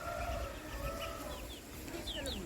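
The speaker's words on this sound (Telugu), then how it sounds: "ఆ బుజ్జి కోళ్ళు" Soft chirping and clucking of young chickens in a garden over a steady outdoor hum, with a few high peeps toward the end.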